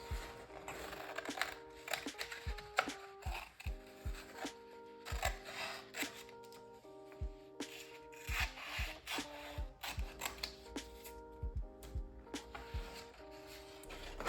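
Sewing scissors snip through paper, cutting out flower fairy pictures for decoupage: a string of close, crisp rasping cuts and rustles in uneven bursts, with small handling knocks between them and no talking.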